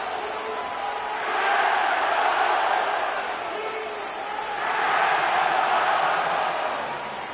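A stadium crowd in EA Sports Madden NFL at SoFi Stadium in Inglewood roars in two broad swelling waves, a dense distant cheer rising and falling over steady ambient crowd noise.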